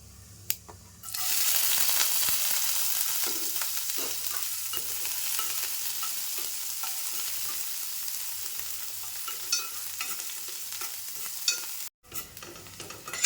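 Steady, loud sizzling of onion frying in hot oil with cumin seeds for an egg masala gravy, with faint clicks of stirring, cutting off briefly near the end.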